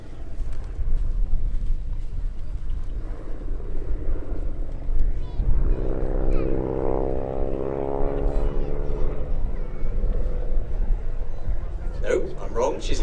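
A propeller biplane with a wing walker on the lower wing makes a slow speed pass at the Sywell airshow, its engine drone swelling as it nears and fading away under a commentator's voice and crowd noise.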